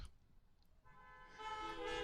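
A car horn honks at a drive-in, arriving after a second of faint low rumble as a sustained, moderately loud toot that holds to the end, heard at some distance.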